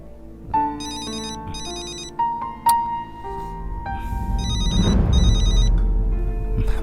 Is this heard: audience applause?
no